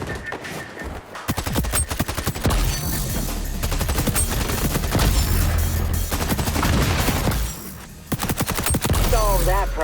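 PP19 Bison submachine gun firing in the XDefiant video game, loud rapid bursts of automatic gunfire mixed with other shots and effects in a busy, near-constant firefight.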